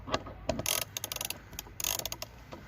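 Ratcheting clicks from a socket wrench tightening a part during transmission work on an Alkro ByLight, heard as quick bursts of mechanical clicking with short pauses, close and fairly loud.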